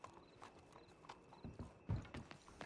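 Horses in Red Dead Redemption clip-clopping with hooves on the ground, a quiet irregular patter of steps with a faint snort, fairly distant and soft, no talk over it.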